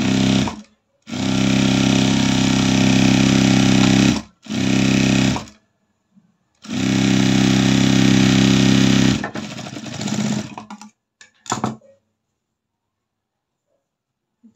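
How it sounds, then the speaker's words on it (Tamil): Electric sewing machine stitching a folded hem along the lining of a 36-inch chudidar top, running loud and close in three long bursts separated by pauses, then a few short stuttering runs before falling silent. "லைனிங் கீழ் பக்கமாக ஒரு மடித்து ஒரு தையல் போடுறேங்க"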